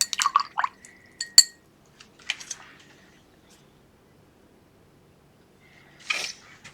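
A paintbrush swished and tapped against a glass water jar while painting a mixed media tag, a few close clinks and liquid splashes in short bursts, then quiet before a final rinse.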